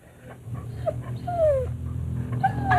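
Lassie, a collie dog, gives a few soft, high whimpers and whines that rise and fall, fairly close, over a low steady background hum with no talk.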